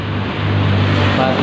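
A Honda Vario 125 scooter engine running rough: a loud, close, continuous idle drone with a coarse, rumbling texture over a brief stretch.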